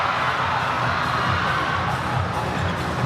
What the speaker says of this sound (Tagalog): Hindi pa tayo puno dito, pero ang lakas ng sigawan dito.